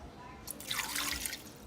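A cup of water is poured into an Instant Pot for hard-boiling eggs, a brief soft splash and trickle lasting about a second, quiet and close.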